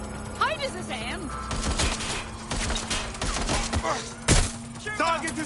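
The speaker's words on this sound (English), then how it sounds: "Target is firing!" Gunfire from the video game Watch Dogs: Legion, with sharp shots and bursts scattered through a busy action scene, mixed with game voices and effects, moderately loud.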